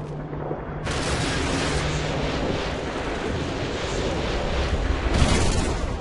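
Dense gunfire and artillery fire in Call of Duty: Modern Warfare 2 on a battlefield, a loud continuous roar of blasts and shots that swells sharply after the first second and stays heavy to the end.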